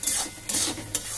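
Spoon scraping and stirring a Bengali fish curry masala (Katla kalia) with turmeric powder in a pan, three rasping strokes against the metal, close and alone with no voice.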